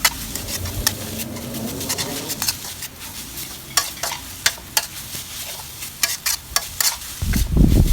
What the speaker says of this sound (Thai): ผัดคลุกเคล้านะคะ ให้ส่วนผสมทุกอย่างเข้ากันค่ะ ผัดไปเรื่อยๆ ค่ะ ตรงนี้ก็ใช้ประมาณไฟกลางค่ะ